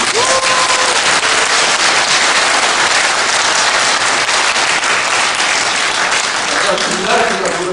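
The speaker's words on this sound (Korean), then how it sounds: "우리 정승산 감독한테 박수를 보내드립니다." Loud, crackling applause from an indoor audience honoring a film director, dense clapping that stays intense throughout, with brief voices audible at the start and end.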